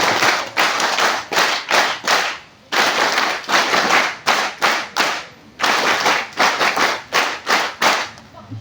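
A crowd claps for NSS volunteers at a public ceremony, loud and close, in repeated bursts of dense applause separated by short pauses.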